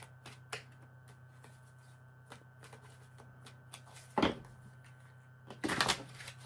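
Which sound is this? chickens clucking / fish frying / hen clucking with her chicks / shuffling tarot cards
shuffling tarot cards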